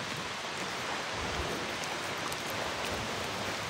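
A waterfall in an Icelandic village pours down in rainy weather, giving a steady, even rush of falling water that holds at a soft, fairly distant level throughout, with no voices.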